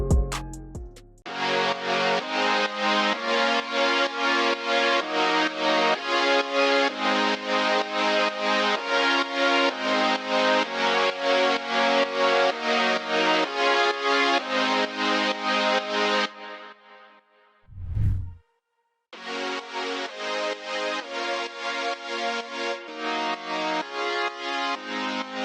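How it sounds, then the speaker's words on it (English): Bright progressive house drop chords built in FL Studio pump in a steady sidechained rhythm, loud and dense, breaking briefly for a low riser before returning. "Now it's time for the drop chords."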